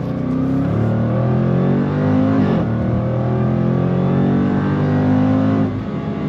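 A 2026 Jaguar F-Pace SVR 575 Edition performance SUV engine revs up loudly through the gears, its pitch climbing, dropping briefly at a shift, then rising again, close and with no voices.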